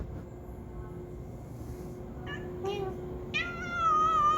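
A female tabby cat meows a few times, short cries growing into a longer, louder yowl, over a low steady background hum.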